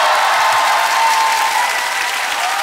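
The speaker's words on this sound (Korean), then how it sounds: "박수 안 치나?" A studio comedy audience claps steadily and evenly, a dense wash of hands that holds at the same level throughout with no talking over it.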